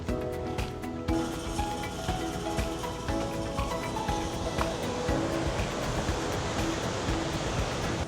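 Broadband surf wash rolls continuously beneath Avon Pier on an Outer Banks beach on a quiet morning, steady and moderately loud, with a brief quieter moment at the start before the waves fill in.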